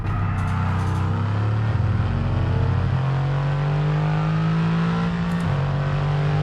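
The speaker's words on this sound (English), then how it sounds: "It's got that Mercedes grumble that the V8 has." A Mercedes bi-turbo V8 car engine in F1 22 idles with a deep, burbling grumble, then revs up slightly and holds a steady, throaty drone close by.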